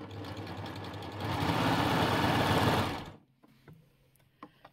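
A sewing machine stitches a chain stitch on fabric, a loud fast buzzing whir that speeds up, holds for a couple of seconds, then stops abruptly, followed by light handling clicks.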